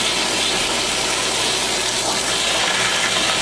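Water rushes steadily through a tankless hot water heater being flushed, a loud, constant hiss and gush with no pauses and no voices.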